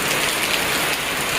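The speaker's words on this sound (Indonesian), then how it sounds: "Ini di pegunungan di pedesaan saya lagi turun hujan." Rain falls steadily on a mountain village, a dense, loud, even hiss with no pauses or voices.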